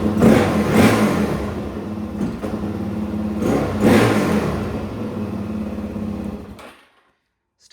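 A Suzuki DRZ400 motorcycle engine with a carburettor bogging problem revs up loudly twice, then holds a rough, uneven running note before cutting off into silence at the end.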